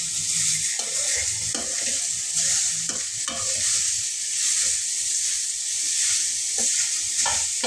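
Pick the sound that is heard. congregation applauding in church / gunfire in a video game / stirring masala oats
stirring masala oats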